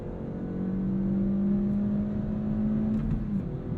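A 2023 Kia Forte GT engine accelerates steadily, its drone rising smoothly in pitch, heard from inside the cabin.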